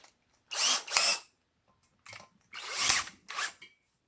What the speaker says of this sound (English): We're going to attach our drill.